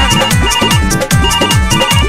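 A phone ringtone plays loudly and continuously, a repeating rhythmic electronic melody with steady beats throughout.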